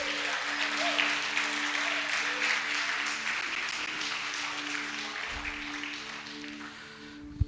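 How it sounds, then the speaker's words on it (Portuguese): A church congregation applauds, a steady, fairly loud spread of clapping that holds for several seconds over a low sustained musical tone, then tapers slightly. "Você pode aplaudir o Senhor por isso?"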